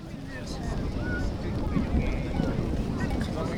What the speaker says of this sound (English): the wind has moved in all of a sudden